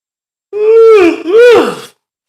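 A long drawn-out yawn from a person, voiced and rising then falling in two swelling breaths, close and fairly loud, with no other sound around it.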